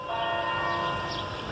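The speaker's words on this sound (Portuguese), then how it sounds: "O sino." A church bell rings in the town of Pereira, its sustained metallic tones hanging and ringing out steadily over a faint background rumble, with no one talking.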